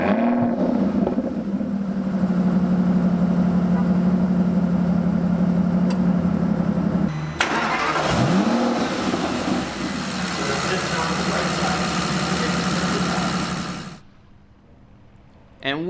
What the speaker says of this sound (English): what you just heard was a 6-liter V12 with 552 horsepower